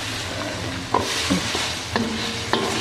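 Softened meat and sweet potato are stirred and sautéed in a pan, a steady close sizzle broken by a few sharp scrapes and clinks of the utensil against the pan.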